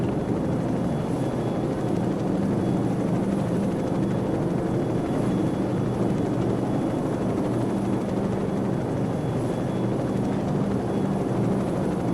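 Steady low helicopter rotor drone with engine hum from the video game Call of Duty 4: Modern Warfare, continuous and fairly loud, no voices over it.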